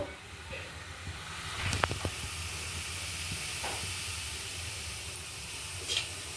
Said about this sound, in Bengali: এখানে আমি বিট আর গাজর একটু গ্রেট করে নিয়েছি এগুলো আমি একটু অল্প আগে ভাপিয়ে নেব